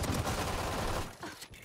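A short, dense burst of rapid gunfire in Valorant plays loud and continuous, then thins out into a few trailing shots.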